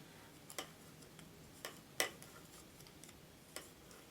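Double-pointed knitting needles click together in sparse, sharp taps, a few irregular clicks spaced out over a quiet background, close and faint.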